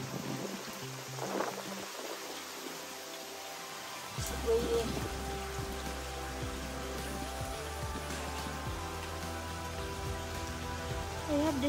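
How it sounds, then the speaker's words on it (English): Steady rain patters continuously across the surface, a dense hiss with scattered drops, growing fuller partway through and continuing to the end. "I'm glad it's really raining."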